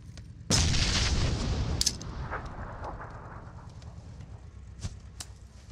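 A grenade blast in the shooter game PUBG hits with a sudden loud boom that decays into a long rumbling tail, with a few sharper cracks and pops scattered through the fading noise.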